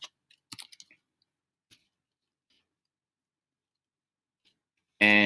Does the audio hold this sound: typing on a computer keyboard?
yes